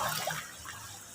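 Shower water runs in a steady, close hiss of spray and splashing, continuous from start to end with no talking.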